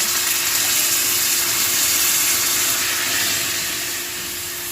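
Steam hisses steadily from a hot pan after a little water is added to skinless chicken longganisa cooking over low heat, a continuous broad sizzle that holds level and eases slightly toward the end.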